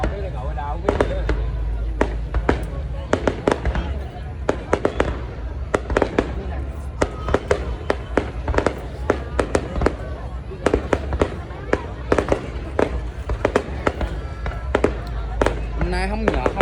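Fireworks for Tet, the Lunar New Year of 2020 (Year of the Rat), crack and boom in dense, irregular bursts over a steady rumble, loud and close, with voices faintly mixed in.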